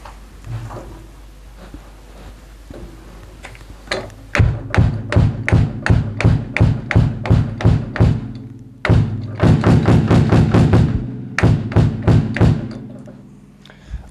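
Drum hits muffled with a soft towel, a steady run of dull thuds, then a quick burst of rapid strikes and a few more hits, fairly loud and close with no talking.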